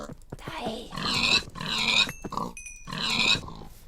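Pigs in the Minecraft video game grunt and oink three times in quick succession, loud and close, with short pauses between the nasal snorts.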